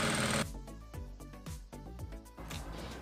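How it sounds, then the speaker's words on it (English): A sewing machine stitches along a folded 1/4-inch fabric hem for a cowl neck dress, running in short mechanical bursts with a rapid rhythmic needle clatter, fairly quiet and close. "Fold it by 1/4 inch. And then you stitch on it."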